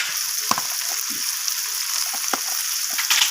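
Ground turmeric, red chilli and cumin sizzling in hot oil in a pan while cooking vegetarian khichuri, a steady close crackling hiss with scattered soft clinks and scrapes of stirring, no talking.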